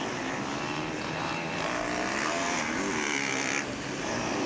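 Off-road championship motorbikes rev through a log section of a race course with a dense, buzzing engine drone that rises and falls at moderate distance, with no talk.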